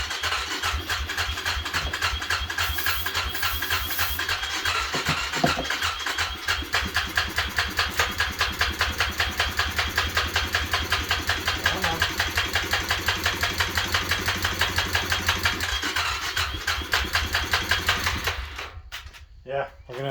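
A 2009 Suzuki Quadrunner 400 4x4 ATV engine turns over and runs roughly with a fast, steady mechanical chatter, loud and close for most of the stretch before cutting out near the end.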